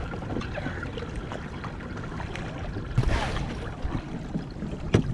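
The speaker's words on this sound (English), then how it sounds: "I'm just motoring out right now." A motorboat heads out on open water for fishing, a faint, steady low engine drone mixed with water wash and wind, with a few soft knocks near the end.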